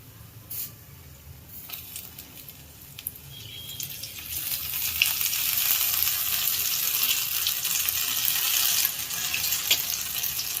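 Garlic potato bhajiya frying in hot oil, a soft hiss that swells into a loud, steady sizzling crackle after a few seconds and holds to the end.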